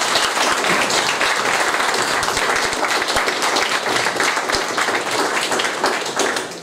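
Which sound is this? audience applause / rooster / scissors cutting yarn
audience applause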